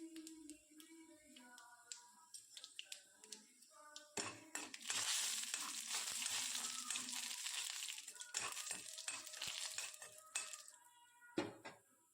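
Mustard seeds hit hot oil with a sudden sizzle and crackle, spluttering and popping for several seconds amid faint utensil clinks, while frying seasoning for sweet potato bonda.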